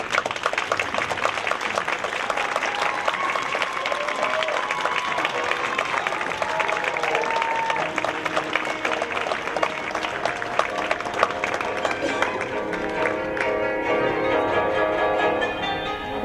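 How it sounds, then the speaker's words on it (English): A crowd applauds candidates returning to the stage at the Northern California Cherry Blossom Queen pageant, steady clapping for the full stretch with some cheering mixed in, fading slightly toward the end. "Big round of applause."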